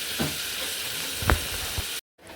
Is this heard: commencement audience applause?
no